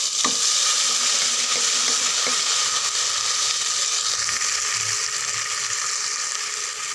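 Cumin and ginger paste fries with vegetables in a pan, a loud continuous sizzle filling the space from start to finish with a few faint utensil taps.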